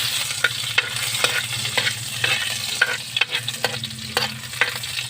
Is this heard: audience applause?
no